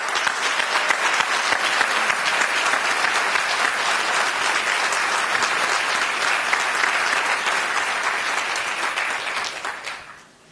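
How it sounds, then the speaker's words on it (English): A large audience at a contest announcement event gives students a loud, dense round of applause that stays steady for about nine seconds before tapering off quickly at the end. "you guys deserve a huge round of applause"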